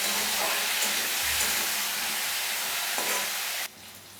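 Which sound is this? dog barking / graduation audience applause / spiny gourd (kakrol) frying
spiny gourd (kakrol) frying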